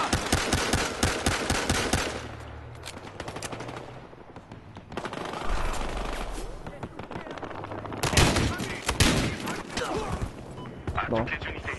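CAR 556 assault rifle gunfire in Battlefield Hardline, bursts of rapid automatic shots in a loud, busy battle mix with explosions, with someone talking over parts of it.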